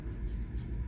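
A sharpened pencil sketches on paper, giving a soft continuous scratching over a low steady hum, close and faint.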